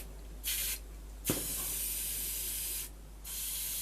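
Aerosol cleaner sprayed over an old wartime civilian radio receiver: several close hissing bursts separated by short pauses, one brief and two longer, with a faint click between them, and no voice.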